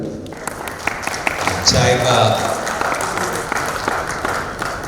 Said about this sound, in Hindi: तो ताली हो जाए।